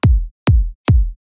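A kick drum one-shot sample, shortened so it is less long and boomy, plays three times in quick succession, each hit loud and punchy with a clipped low tail and nothing else around it.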